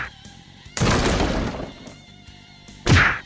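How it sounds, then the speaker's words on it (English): A pool cue smashing against a wall: a sharp crash with a splintering, shattering burst that rings for most of a second, then a second short, hard impact near the end, no talk. "The pool cue smashing against the wall snaps James out of his anger."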